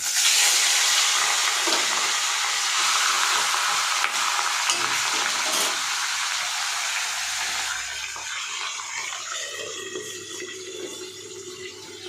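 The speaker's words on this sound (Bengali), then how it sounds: "সবার লাস্টে আমি এখন মাছটা ভেজে তরকারিটা রান্না করব" Large fish heads fry in hot oil in a wok, a loud, steady, close sizzle with bursts of spattering that eases somewhat toward the end.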